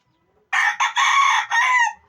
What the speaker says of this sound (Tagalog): Maliit na manok.